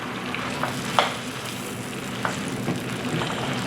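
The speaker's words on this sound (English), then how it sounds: "I'm going to saute that just for a minute in that stick of butter" Louisiana crawfish tails sauteing in a stick of melted butter in a pan, a steady close sizzle and crackle with a few sharp spatters and the scrape of stirring.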